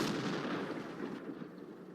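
A tank fires in the World of Tanks video game, one booming shot that rolls away into a fading rumble.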